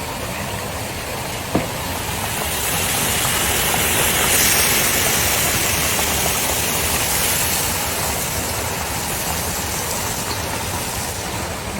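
Dense, steady sizzling and crackling of pork belly frying in hot oil in a small pan, broad and hissing, continuous and close with no talk.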